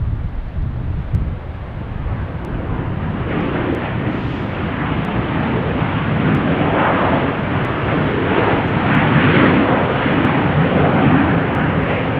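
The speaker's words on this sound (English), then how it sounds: "Here we have our Delta arrival from Las Vegas. 737-900." A Delta Boeing 737-900 arriving from Las Vegas at Salt Lake City Airport gives a steady, loud jet roar that swells gradually over the full length, with wind buffeting and no voices.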